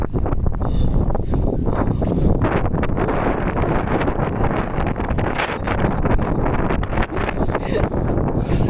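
Strong, steady wind roars and buffets continuously outdoors in Tanay, Rizal, with dense rumbling gusts and no pauses.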